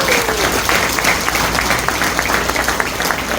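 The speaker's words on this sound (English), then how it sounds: "give this gentleman a loud applause" An audience at an event breaks into loud, dense applause, many hands clapping together steadily and close for a few seconds.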